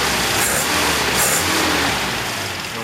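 A 1983 Toyota 4x4 pickup's 20R four-cylinder with a Weber 32/36 carburetor, electronic choke and aftermarket header idles steadily and smoothly up close, a continuous broadband engine drone with no speech over it.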